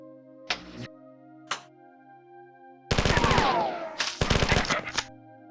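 Enemy gunners in the video game Classic Marathon open fire: two single sharp shots, then a loud sustained burst of rapid automatic fire, a pause, and another close burst; no talking.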